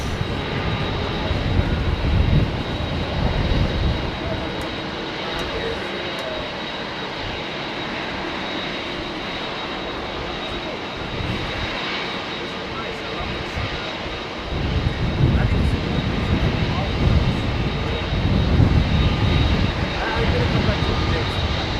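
A jet airliner with GEnx engines and raked wingtips passes at Heathrow, its engine roar a steady, broad rumble that swells and fades over about twenty seconds, with voices talking throughout.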